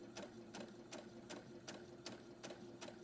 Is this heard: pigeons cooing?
no